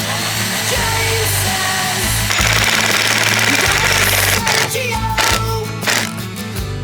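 An impact driver drives a fastener into a piece of wood in a garden, giving a loud, rapid hammering rattle that runs steadily, then grows harsher and more broken toward the end.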